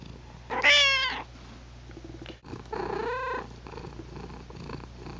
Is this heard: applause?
no